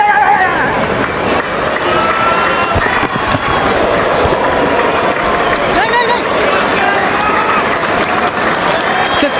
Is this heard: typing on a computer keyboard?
no